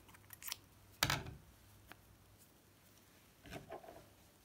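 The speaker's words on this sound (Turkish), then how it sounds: "İpi kesiyorum." Scissors snip through yarn during crochet work, giving a few short, quiet cutting clicks with one sharper close snip and a soft pair near the end, otherwise near silence.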